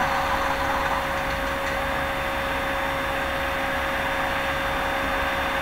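Cessna 172 engine idling with the throttle pulled back in Microsoft Flight Simulator X, a steady, loud, continuous drone with constant level and no talk over it.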